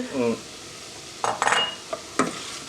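Sugar is stirred into a zucchini chutney in a pan, with a brief low clatter followed by a few sharp scraping and clinking strokes of a spoon against metal over a quiet sizzle.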